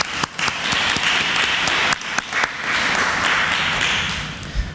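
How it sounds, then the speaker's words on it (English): Applause at a school district Teacher of the Year event, a full round of audience clapping, loud and even, with a few sharper individual claps near the start and middle. "Let's have a round of applause for GEA."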